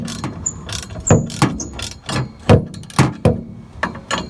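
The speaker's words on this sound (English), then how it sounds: "3/8 inch ratchet." A 3/8 inch ratchet loosens bolts on a truck, its pawl clicking in short, repeated bursts of sharp ratcheting close by, with brief pauses between strokes.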